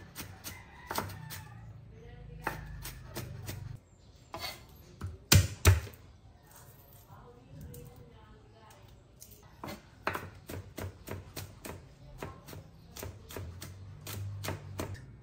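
Onions are chopped on a cutting board, with bursts of sharp, rapid knife taps in uneven runs and a few louder knocks in the middle, recorded close up.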